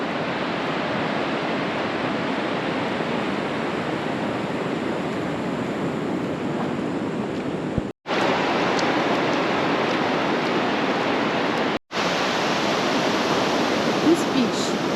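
Broadband roar of ocean surf at Whale's Tail Beach in Uvita, Costa Rica, constant and loud with wind, with two short gaps.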